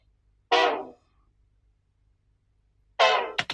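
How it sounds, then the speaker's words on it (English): Two short sampled Kontakt trumpet stabs follow a chord progression for an Afrobeat beat, dry and without effects. Each blast is bright and brassy, separated by silence, with the second accent clipped off at the end. "I'm gonna do the trumpets first."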